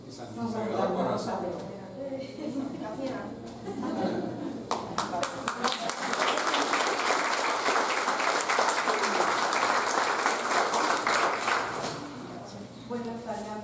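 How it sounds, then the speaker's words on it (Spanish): An audience applauds at the opening of a collective exhibition of carved saints and paintings: speech first, then a burst of sharp individual claps swelling into sustained clapping that fades as talk resumes. "aplauso."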